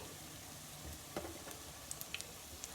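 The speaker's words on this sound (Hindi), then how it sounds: "डोनट्स को हम फ्राई करेंगे क्रिस्पी ब्राउन होने तक।" Potato donuts fry in oil over a medium-low flame, giving a faint, steady sizzle with a few small pops and light clicks near the end, no voices.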